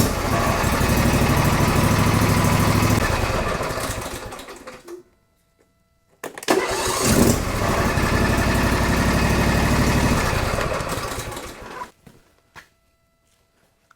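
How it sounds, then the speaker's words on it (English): A Husqvarna garden tractor's small engine cranks and runs in two long loud bursts, each cutting off abruptly into silence, with a rapid mechanical chatter throughout. "make sure it's going to crank the engine without that sort of slow rotation"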